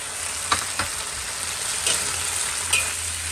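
Pork and garlic stems stir-frying in a pan, a steady soft sizzle with a few sharp scraping clicks from the utensil spaced through it, fairly close and alone.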